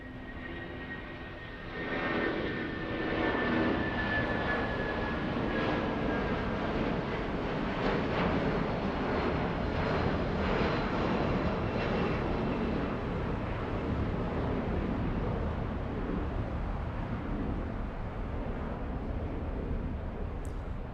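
A jet airliner flies over a Los Angeles airport, its roar swelling after the first couple of seconds and holding as a steady rushing drone, with no voices.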